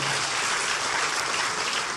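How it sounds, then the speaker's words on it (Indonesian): A church congregation claps during a sermon, producing a uniform, fairly soft roar of hands that holds steady for a couple of seconds before cutting off. "Kita kasih tepuk tangan dulu yang dahsyat"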